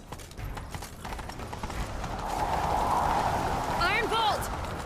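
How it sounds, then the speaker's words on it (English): Rhythmic hoofbeats of a horse galloping along in The Witcher 3: Wild Hunt, steady and close, with a brief whinny near the end over ambient game sounds. "Grab a horse, we'll chase him down."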